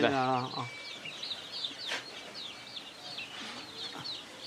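Month-old fancy chicks, Golden and Silver Sebright, cheep and peep in a brooder section, with a brief hen cluck at the start and someone talking quietly in the background.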